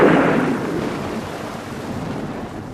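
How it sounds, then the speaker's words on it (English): A clap of thunder directly overhead during heavy rain: a loud, deep boom at the start that rolls on as a fading rumble for a few seconds. "This was followed by a clap of thunder directly overhead"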